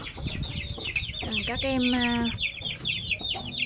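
Young chicks in a warm coop under heating lamps, with steady cheeping and clucking at close range, rising to a clearer run of calls midway, while a person talks over them.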